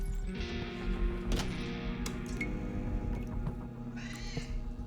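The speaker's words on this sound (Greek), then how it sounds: "Νιάου, το γάτι επιμένει." A cat meows a few times, short mewing calls heard over a steady hum and background game sounds during a stream.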